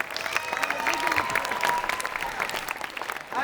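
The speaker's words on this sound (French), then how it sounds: "On peut l'applaudir encore une fois, s'il vous plaît." An audience at a French stage show breaks into applause, a crowd of hands clapping in a quick crackling patter with a few louder individual claps standing out, fairly close and sustained.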